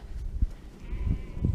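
Sheep bleating on open moorland along the Pennine Way near Laddow Rocks, a few brief calls rising out of outdoor wind noise at moderate distance.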